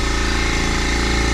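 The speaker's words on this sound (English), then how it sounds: "now this little electric motor's going" A small electric motor runs on a gold dredger in Nome, a loud, steady, fast mechanical chugging with a tight, even pulse that goes unbroken throughout.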